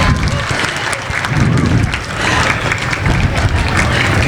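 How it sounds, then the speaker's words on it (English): A school audience claps in a sustained round at a Lunar New Year celebration, loud and continuous with a little crowd noise mixed in throughout. "Give a round of applause to yourself."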